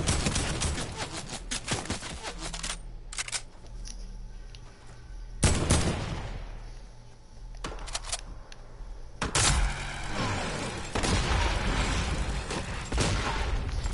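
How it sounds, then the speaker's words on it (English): Video game gunfire in a team rumble match, with dense bursts of shots and booming impacts coming in waves over a continuous busy game soundscape. "Where the fuck am I getting shot at?"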